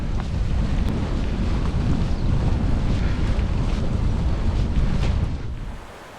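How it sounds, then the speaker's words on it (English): Strong wind buffets the microphone while cycling across a flat, windswept island in the Outer Hebrides. A loud, continuous rumbling roar holds steady throughout and eases off slightly at the end. "we've been cycling into the wind for quite a while, and it's pretty draining"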